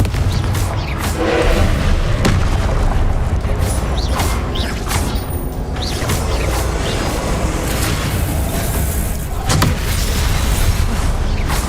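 Confringo fire spells bursting in the Hogwarts Legacy video game: several sharp, booming blasts rise over a dense, continuous wash of loud game noise, with no talking.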